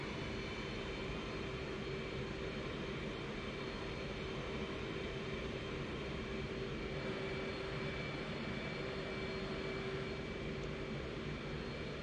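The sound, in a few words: F/A-18 jet engine in DCS flight simulator video game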